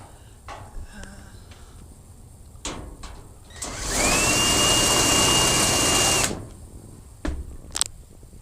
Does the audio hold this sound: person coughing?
no